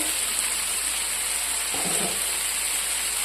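Kerala-style prawn roast cooking in a pan, a loud, steady close-up frying hiss, briefly thickened by a short stir or shift of the pan partway through, with no voices.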